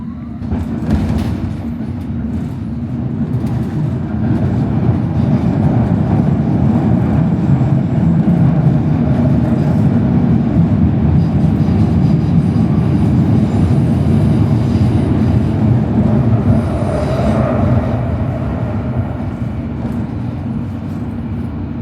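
A London Underground Metropolitan line train running between stations toward Finchley Road, a loud continuous low rumble and roar of wheels and motors heard from inside the carriage, steady throughout with slight swells and faint rattling.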